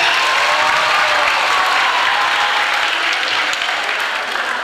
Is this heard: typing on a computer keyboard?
no